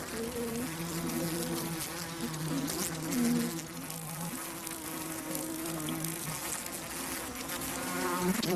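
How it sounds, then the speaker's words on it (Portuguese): A dense swarm of bees buzzes continuously while attacking an invading wasp, a close, steady droning hum that wavers in pitch as the insects mob and sting it. "Mas estas abelhas bolaram um plano de batalha."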